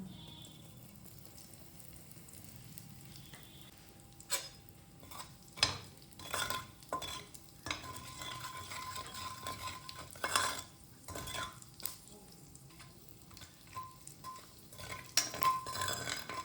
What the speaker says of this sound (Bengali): ভালো করে টেম্পারিং হতে দেবো।